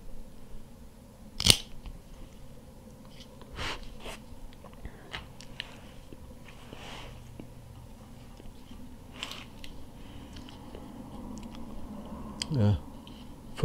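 A Montecristo Espada cigar being cut, with a couple of sharp, faint snips from close by in an otherwise quiet room, separated by soft handling rustles.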